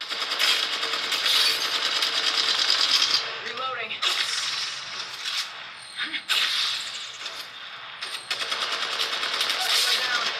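Rapid gunfire bursts from a squad shootout in a mobile shooter game on an Infinix Note 12 2023 phone, clattering in close repeated volleys with short pauses between them.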